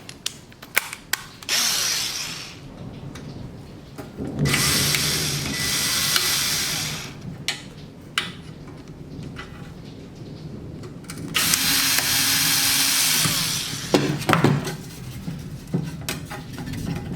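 A handheld power tool spins in several bursts of varying length, backing flathead screws out of the fuel tank on a 1958 Tecumseh barn-find lawn mower, with clicks and handling noise between runs.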